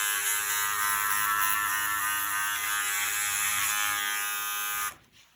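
Babyliss Pro hair clipper buzzing steadily and loudly close up while cutting a child's hair for a skin fade, then switching off abruptly near the end, no talk.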